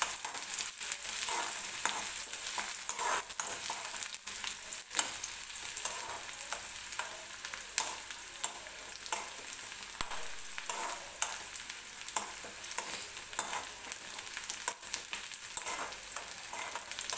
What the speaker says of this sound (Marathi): कांदा थोडासा भाजत आला की मग आपण याच्यामध्ये हिरवी मिरची टाकूया।